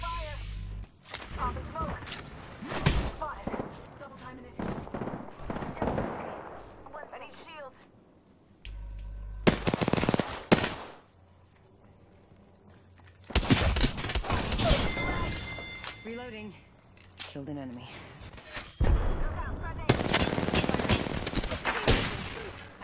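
Apex Legends gunfire in a battle royale fight, with bursts of rapid automatic shots and heavy impacts separated by quieter gaps, while players talk over the shooting.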